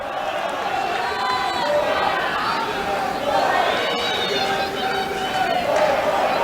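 A lively crowd at Margaret Court Arena during an Australian Open tennis match, with a broad continuous hubbub of chatter and murmuring across the stands, heard at a distance with no single voice standing out.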